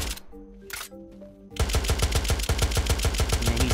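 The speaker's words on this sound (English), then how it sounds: "There are more shots back there." Rapid gunfire in the Unturned survival game erupts after a quieter opening with a few distant shots, then a loud, steady burst of automatic fire with evenly spaced cracks continues to the end.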